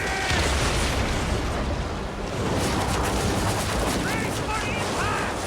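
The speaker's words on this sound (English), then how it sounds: "More speed, Zeno! We're under fire!" Ship cannons fire during a naval battle in Assassin's Creed Origins, loud booming blasts and gunfire layered over a dense roaring battle din, with shouting voices mixed in.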